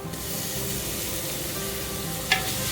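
Crushed ginger, garlic and green chilli sautéing with onions for masala rice, a steady close sizzle with one brief sharp clink of a utensil near the end.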